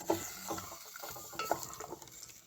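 A spoon stirs mutton curry inside a pressure cooker, giving soft scraping and clinking against the pot with a faint sizzle, close and fairly quiet over about two and a half seconds.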